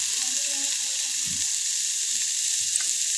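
Fried rice with carrot and capsicum sizzles in a pan as its water cooks off, giving a loud, continuous, close hiss with faint stirring scrapes beneath and no voices.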